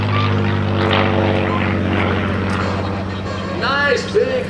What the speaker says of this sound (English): Nice big barrel roll by Lotto Lennox line. It's beautiful, P-51